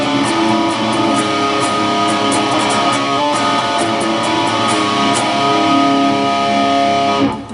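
A distorted electric guitar phrase for a song rings over a sustained D pedal tone, dense and loud, with steady picked notes and no voice.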